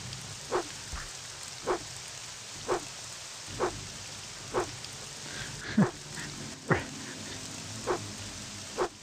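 Rain falls steadily in The Elder Scrolls III: Morrowind on Xbox, a soft continuous hiss broken by regular dull thumps about once a second.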